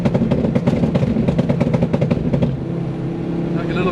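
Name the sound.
Ford Focus ST turbo flutter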